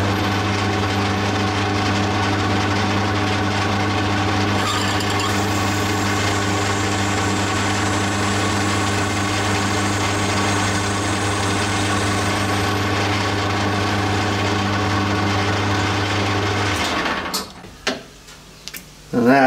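A lathe turning a Titan .60 glow plug engine crankshaft dry, without coolant or lubricant, gives a steady, loud mechanical hum and whir that runs continuously and then winds down near the end.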